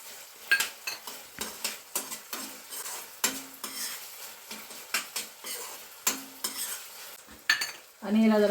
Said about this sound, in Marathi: आणि याला जरासं परतून घ्यायचं.